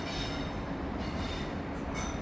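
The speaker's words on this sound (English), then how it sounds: "So here's our next freight working. This is Wentlog to Southampton. And it's another Freightliner working." A Freightliner freight train runs from Wentlog to Southampton past Reading West, giving a continuous loud rumble and rolling wheel noise with faint high squeals from the wheels, close by, with no speech.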